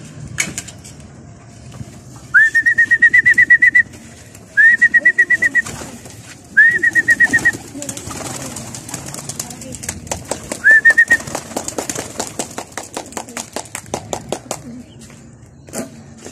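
Pigeons at an old-school loft give several drawn-out coos in separate bursts, with soft wing flaps and rustling between them, close by and fairly loud.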